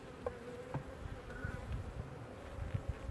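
Killer bees swarm around an open, heavily built top bar hive, a dense steady buzzing close by with individual bees droning past, no talk over it.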